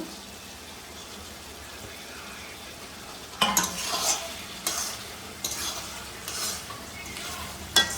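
A spoon stirs a dry fish curry in a pan right after fresh coriander goes in. After a quiet start, several close, brisk scraping and sizzling strokes arrive in bursts, with no talking.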